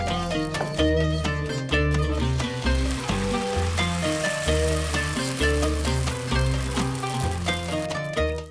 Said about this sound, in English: Cook each side for roughly 30 seconds to a minute or until you see these gentle scorches.